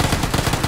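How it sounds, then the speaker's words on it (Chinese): Rapid automatic gunfire from the battle royale game PUBG rattles in a fast, even stream of loud, close shots with no pause. "他们开枪了，在后面"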